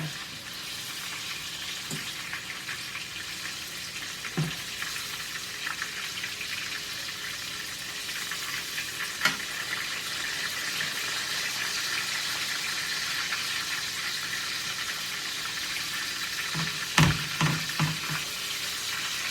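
Pork loin chops frying in a pan produce a continuous crackling sizzle for a long stretch, with occasional clinks and spatters of oil breaking through the steady hiss.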